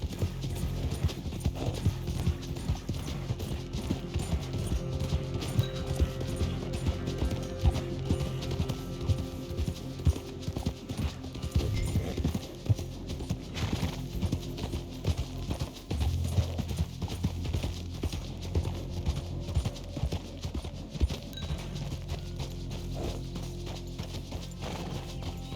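A horse trots and canters in Red Dead Redemption 2, hooves clopping in a steady, close rhythm throughout, with creaking tack and light mechanical clicks mixed in, and no talk.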